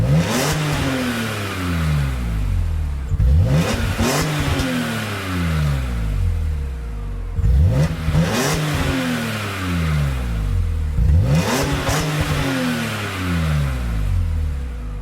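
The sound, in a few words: BMW M3 inline six-cylinder engine revving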